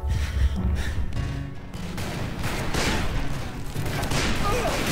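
Gunfire from the Wild West shooter Call of Juarez: Bound in Blood, a dense stretch of shots and booms rolling over game music and effects, with a voice talking underneath.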